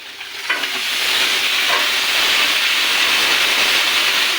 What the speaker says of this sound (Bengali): এই যে আমরা 12 কেজি মাংস দিয়ে দিচ্ছি 10 কেজি চাউলের মধ্যে